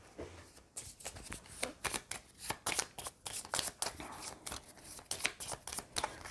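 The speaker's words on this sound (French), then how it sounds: "Je me pioche une main de 5 cartes." Five cards being drawn by hand in a solo game of Dune Imperium, a rapid series of crisp paper slides and snaps close to the table, quick and irregular, with no talking.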